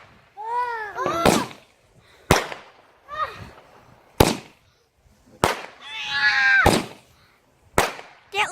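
A Gatling gun firework cake fires a rapid series of shots at a backyard display. Rising whistles alternate with loud, sharp cracks at irregular intervals of about a second.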